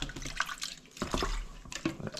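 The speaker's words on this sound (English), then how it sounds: "I need more water there. More water." Water is poured and splashes while crushed gold ore is being washed, giving irregular wet splashing and trickling bursts heard close by without talk.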